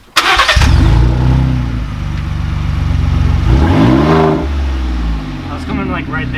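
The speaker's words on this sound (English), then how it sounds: "We're going to start up the truck with the exhaust off just to see how it sounds." A Ford Raptor truck with its exhaust removed cranks and fires up, bursting into a loud, rough, close-up engine roar that holds steady, then briefly revs higher before settling; a voice speaks over it near the end.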